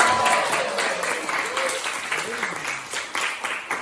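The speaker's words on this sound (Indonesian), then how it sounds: "Tepuk tangan" Classroom applause from students welcoming a presenting group, a brisk dense patter of clapping hands that continues steadily and tapers slightly toward the end, with a faint voice early on.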